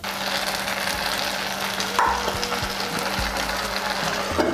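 Toasted rice frying in a pan with carrot, pepper and peas, a steady close sizzle running throughout with a few light clinks and stirring scrapes, no talk.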